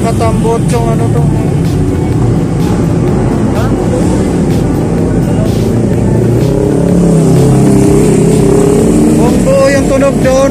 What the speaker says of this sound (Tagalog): Ayan o, Harley Davidson.